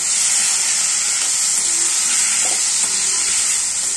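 Potatoes for potato bhaji frying and being stirred in a pan: a steady, dense sizzle and hiss close up, with faint scraping from the mixing.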